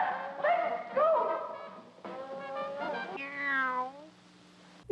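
Cats yowl and meow in a fight, with several drawn-out wavering cries rising and falling in quick succession, close and moderately loud.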